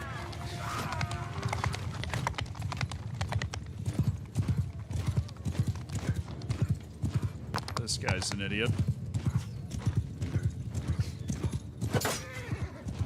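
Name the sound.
horses galloping and neighing in a video game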